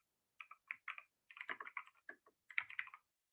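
Bursts of clicky keystrokes on a computer keyboard as Java code is typed, coming in quick uneven clusters with short pauses between, close and fairly quiet, with no talking.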